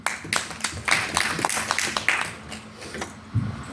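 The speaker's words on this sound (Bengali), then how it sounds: "করতালি।" An audience gives scattered applause at an awards ceremony, irregular individual claps rising and falling, fairly close and fading after a few seconds.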